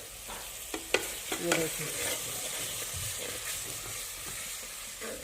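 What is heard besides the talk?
chopped chillies and tomatoes frying with onions and masala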